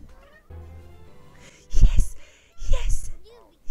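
Cat meowing in The Sims 4, short bursts at about two and three seconds over a quiet game soundtrack, with a brief softer meow at the end.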